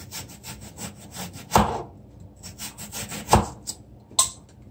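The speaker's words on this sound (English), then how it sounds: "You shred the carrot." A carrot being shredded on a grater for Jamaican-style escovitch fish, making a steady series of close, rasping strokes with a few sharper scrapes and no talking.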